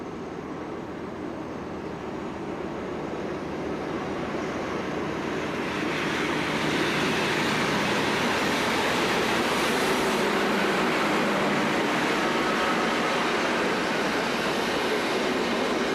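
A D445 diesel locomotive train runs steadily with a broad, continuous rumble and rail noise that grows somewhat louder partway through, with no voices.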